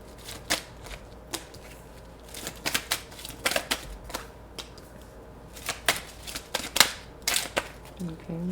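Tarot cards are shuffled and dealt in quick, crisp riffles and snaps, with irregular clustered bursts close to the microphone and a brief voice near the end.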